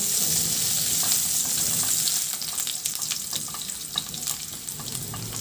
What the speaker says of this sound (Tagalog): Magpainit na rin ako ng mantika sa kawali at igisa ko na rin yung bawang.